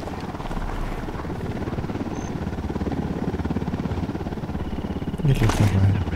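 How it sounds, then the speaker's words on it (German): A helicopter approaches in the Ghost Recon Wildlands video game, its rotor chop a steady rhythmic thumping that grows louder toward the end amid game effects. "Heli im Anflug."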